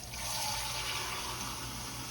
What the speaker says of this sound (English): I'm gonna add a little bit more water to this because it's really, really rich